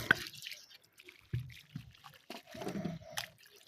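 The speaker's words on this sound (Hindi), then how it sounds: "ये एसी का पानी लगाएंगे पौधों को" Air conditioner runoff water is poured onto spinach plants in a home garden, giving faint, irregular splashes and drips, close by and quiet, with no talk.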